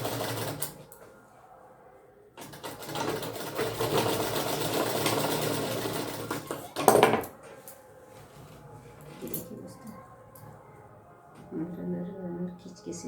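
A sewing machine stitches a zip onto a lehenga in bursts of steady mechanical whirring, with quieter pauses and handling noises between runs.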